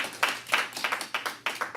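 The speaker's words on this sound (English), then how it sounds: "thanks for the applause" A small audience at an evening legal gathering gives a short burst of scattered clapping, a handful of distinct claps at a moderate level, briefly and without a full roar.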